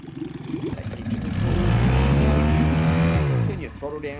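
A Parsun 9.8 hp outboard boat motor sputters, catches and revs up loudly, holding a steady high drone before dropping back to a lower idle.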